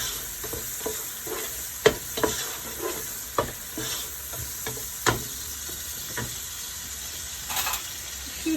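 Something fries in a pan before cabbage is added, a continuous soft sizzle broken by scattered spatula scrapes and taps at an irregular rhythm, fairly quiet and close.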